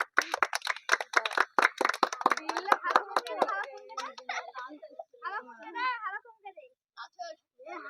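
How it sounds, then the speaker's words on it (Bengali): Children and an audience clap at a balloon-bursting game, a quick burst of brisk clapping for a few seconds that fades into children's voices and chatter. "হাততালি সবাই"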